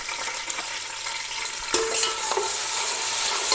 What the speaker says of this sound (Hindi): ये अब हम प्याज डालने लगे इसमें